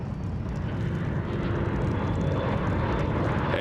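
Firefighting helicopters fly over a wildfire in France, giving a steady, dense engine and rotor roar that holds at an even level throughout, with no talk.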